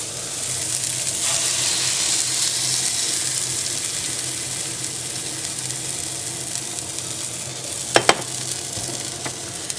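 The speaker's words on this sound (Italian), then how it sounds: "E ora aggiungiamo praticamente tutto l'uovo all'interno." Beaten eggs poured into a frying pan of broccoli and asparagus for a frittata, giving a steady, loud close sizzle throughout with a couple of brief clinks of a utensil near the end.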